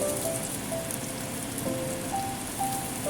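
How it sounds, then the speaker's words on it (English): Red pepper slices sizzle in hot oil in a skillet, a soft, steady crackling hiss with light spattering and faint clinks, fairly quiet and close, with no voices. "Then add in red pepper slices to stir fry."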